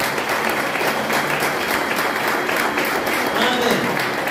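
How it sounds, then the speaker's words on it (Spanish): A church congregation claps steadily during a worship service, a dense wash of hand claps filling the whole stretch at even loudness. "Dale un aplauso al Señor."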